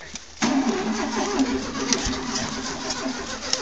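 A car engine cranks on a weak battery, struggling to turn over, a loud, steady churning that begins abruptly after a brief quiet moment and continues throughout.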